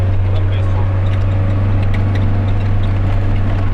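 A car engine works hard climbing an uphill rural road, a steady low drone running throughout at close range with a constant loud rumble; people talk over it.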